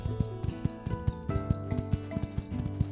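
Hooves clip-clop in a quick, regular rhythm as a horse is ridden in the video game My Time at Sandrock, crisp and close over soft tonal background music.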